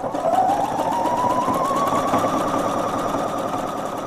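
A sewing machine stitches an elastic seam on baby trousers in one steady, continuous whirring run, close and fairly loud, with no talking.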